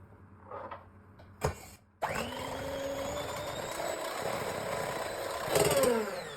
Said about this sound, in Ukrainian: І збиваємо цю масу до густих піків.